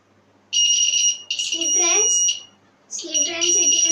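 A homemade continuity tester buzzer sounds loud and close in two long high-pitched bursts separated by a short gap, with a person talking over part of the buzzing.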